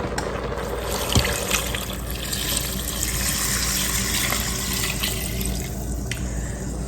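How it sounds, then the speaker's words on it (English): Water poured steadily into an Instant Pot while cooking Creole-style red beans, a continuous close splashing and trickling fill that runs throughout with no talking. "Set that aside and go in with the rest of our water."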